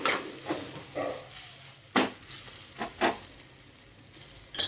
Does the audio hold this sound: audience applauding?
no